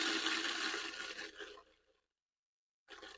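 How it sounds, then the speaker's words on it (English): Mosquito bits poured into a container of cold water make a loud, rushing splash for about two seconds, stop abruptly, then a short burst of pouring returns near the end. "So what I'm going to do is pour some of the bits in here."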